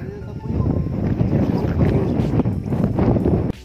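Strong, cold wind at Osmeña Peak roars and buffets the microphone continuously, loud and close, with rumbling gusts throughout.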